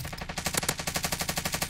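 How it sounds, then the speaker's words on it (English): A video game machine gun fires one continuous rapid burst of about a dozen evenly spaced, loud, close shots, with no pause and no voices. "They're shooting at me."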